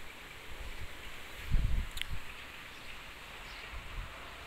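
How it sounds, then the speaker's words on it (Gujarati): Wind blows steadily across open village ground, a continuous broad rushing with a few stronger low gusts and buffeting against the microphone. "અમુક અમુક જગ્યાઓએ પવન ફૂંકાવાનું ચાલુ થઈ ગયું છે"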